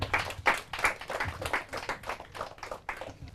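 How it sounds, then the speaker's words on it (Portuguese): Studio audience on a Portuguese-language quiz show claps in about ten distinct rhythmic bursts, fairly soft and close, with no talking over it. "Palmas."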